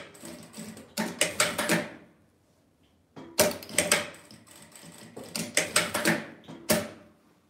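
Sewing machine stitches a label onto fabric, in short bursts of rapid mechanical clatter separated by quiet pauses, close and clear.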